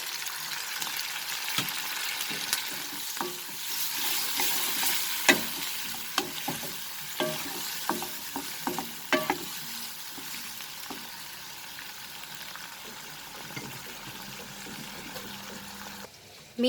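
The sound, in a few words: chilli cauliflower stir-frying in pan with soya sauce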